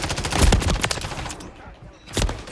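Call of Duty Modern Warfare 3 multiplayer combat with sustained gunfire and repeated heavy blasts, loud and dense at the start, easing off briefly, then another close burst near the end.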